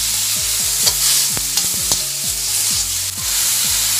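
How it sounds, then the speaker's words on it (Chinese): King oyster mushrooms, chili and soy sauce stir-fried in a hot wok, a steady loud sizzle with repeated scraping stir strokes throughout, close, no talking. "炒出香子味，放入杏鲍菇、辣椒，放点酱油调色"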